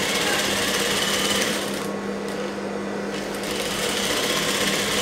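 A sewing machine runs steadily while stitching a blouse at a tailoring table, a continuous loud mechanical whir with a brief slight dip in speed midway, no voices over it.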